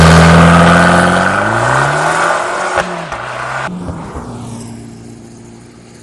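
An Abarth 595 Competizione with a 1.4 litre turbo petrol engine of 180 horsepower revs loudly nearby, pitch climbing then cutting off, before the engine note fades as the car moves away.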